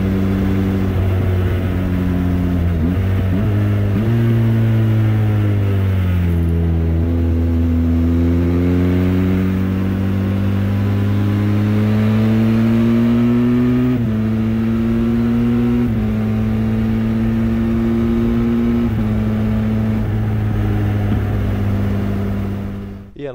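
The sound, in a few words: Benelli TRK502X motorcycle accelerating, shifting without clutch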